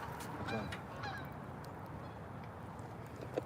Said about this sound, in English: Did you guys hear the geese?